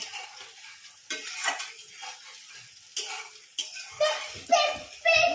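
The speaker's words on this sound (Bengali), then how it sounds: "ওদিকে পেঁয়াজটা আমার প্রায় ভাজা হয়ে গেছে।" Onions crackle and sizzle in a pan with intermittent stirring scrapes, while a person speaks over the cooking noise.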